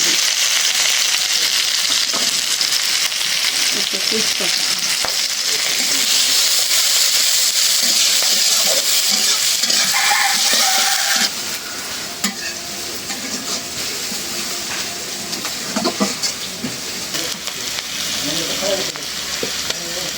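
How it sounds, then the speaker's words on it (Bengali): Chopped onions hit hot oil in a home kitchen pan and sizzle steadily, with a loud, broad hiss that eases a little partway through, plus occasional stirring clinks, close by. "তেলটা গরম হয়ে গেছে দিয়ে দিলাম পিঁয়াজ"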